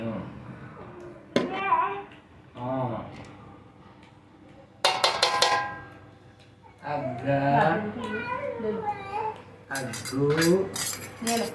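White rice is ladled into a large pot of chicken biryani, with clattering metal pot and utensil knocks in bursts. People, including a child, talk between and over the clanks.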